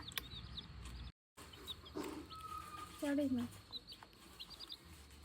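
Several chicks peep in short high chirps over a noisy background, with some clucking and a brief louder call near the middle.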